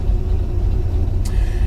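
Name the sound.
truck engine idling while warming up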